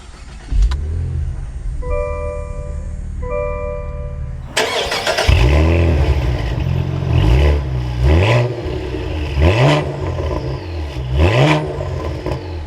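A 2022 Cadillac CT4-V Blackwing gives a few soft chimes, then its engine cranks and fires up with a loud, close roar, followed by several sharp revs that settle back to a rumbling idle between each blip.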